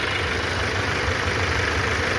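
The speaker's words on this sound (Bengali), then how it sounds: "এখনও 15-20 মিনিট আমরা স্টার্টে রেখে দেবো।" An MG Gloster engine idles steadily during a timing belt change and engine flush service, a constant close rumble with no talking.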